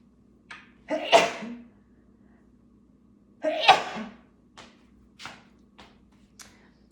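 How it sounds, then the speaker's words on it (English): Two sharp sneezes burst out close by, followed by faint scattered taps and clicks in an otherwise quiet room. "Excuse me, I'm about to sneeze."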